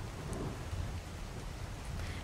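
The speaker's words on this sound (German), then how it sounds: "Ja, jetzt regnet es in der Höhle." Steady rain falls in a cave in ARK Survival Evolved, a soft, even hiss with a low rumble beneath, quiet and unbroken throughout.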